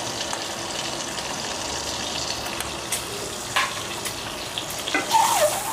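A boiled egg fries with turmeric and salt in hot oil, hissing in a continuous close sizzle with a few spatula knocks near the end. No one speaks.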